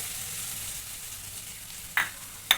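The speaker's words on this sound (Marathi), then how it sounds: "कडलेल्या तेलामध्ये थोडीशी जिरा मोहरी टाकलेली आहे" Cumin and mustard seeds sizzle and crackle steadily in hot oil while pasta is being made in a home kitchen, with two sharp pops near the end.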